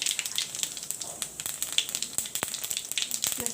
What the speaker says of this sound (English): Now I'll put in the cumin seeds